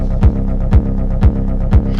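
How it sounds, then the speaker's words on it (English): A pulsing techno beat from a Digitone 2 and Pioneer RMX 500: four deep, evenly spaced kick thumps with sweeping synth swells, over a droning synthesized bass hum, loud and steady. "You've got a nice pulsating sound in the background."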